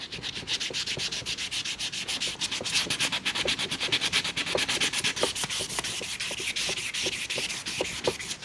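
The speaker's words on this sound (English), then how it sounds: "Finished up sanding the dash." Wet sanding of a fiberglass repair on a cracked dashboard pad from a box Chevy: quick back-and-forth abrasive strokes rasp in a close, steady rhythm, with small scuffs and taps between passes, and no talking.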